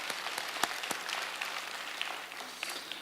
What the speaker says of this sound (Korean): 자리에 앉으시고 수고하신 자녀들에게 격려의 박수로 드리도록 하겠습니다.